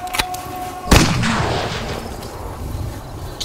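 Shotgun fires a slug in one sharp, loud blast that rings out with a short decaying tail, followed by quiet; a fainter click-like transient comes just before.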